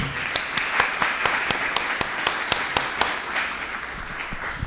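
Scattered hand claps from a small audience at an opening session of an animal law event at a university law faculty, sharp distinct claps in an uneven rhythm, fairly near and sounding alone.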